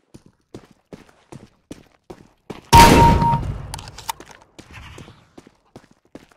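A single loud shotgun blast in the game CS:GO cracks out partway through and decays with a short rumbling tail, set among soft, evenly spaced footstep taps before and after; no one talks.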